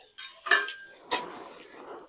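A lid goes onto a pot of chicken dum biryani, giving two near, clanking metal knocks about half a second apart, the first leaving a short ringing tone over faint kitchen noise.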